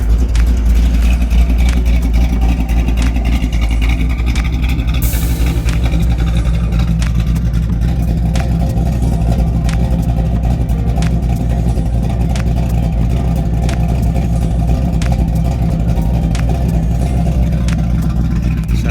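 Engine of a 1984 Grand Prix car running on the road, a steady loud low rumble throughout with constant drive noise, cooling fans and a brief sharp burst midway.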